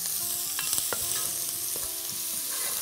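Chopped onion frying in butter in a pan while being stirred: soft continuous sizzle with a few scraping spatula strokes, close and moderately quiet, no talking.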